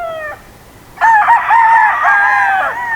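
A young rooster, a stag gamefowl, crows once loudly and close by, a strained, wavering call lasting under two seconds after a brief higher cluck-like note and a pause.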